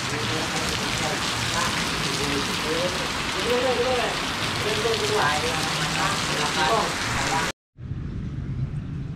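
Steady rain falls on and around the courtyard of a traditional Banjar house, a dense close patter with some bird-like chirps. It is briefly cut to silence near the end and then returns more softly.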